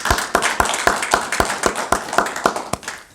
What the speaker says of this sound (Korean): 우리 한번 주님 앞에 영광의 박수 올려드리겠습니다